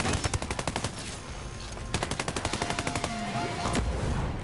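Rapid automatic gunfire from a PS4 video game, loud bursts of evenly spaced shots in two long volleys with a short gap between, and scattered single shots toward the end.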